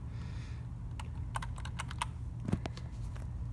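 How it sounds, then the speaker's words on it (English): Keystrokes on a computer keyboard clatter in an irregular burst of sharp clicks, close and fairly crisp over a steady low background hum, with no talking. "going to put it in here, and just start typing"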